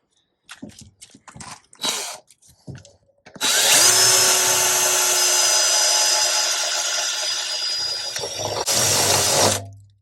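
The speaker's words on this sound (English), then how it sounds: "I'm going to take a stepping drill bit and just take these up to a 10mm hole" A power drill with a step bit bites in with a steady high whine for several seconds, then stops, after a few short bursts and clicks beforehand.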